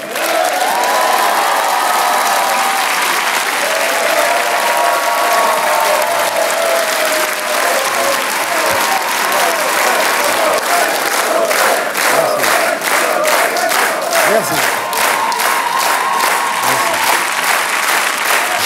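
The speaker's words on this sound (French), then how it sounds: "je vous demande de faire un tonnerre d'applaudissements pour Monsieur Popek" A large theater audience at a Paris cabaret show in Pigalle gives comedian Popek a loud, sustained round of applause mixed with crowd noise and a few shouts, dense clapping continuing steadily throughout.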